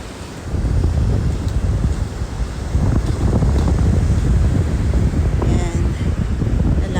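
Seaside surf rumbling in a steady wash with strong wind buffeting the microphone, loud and continuous throughout.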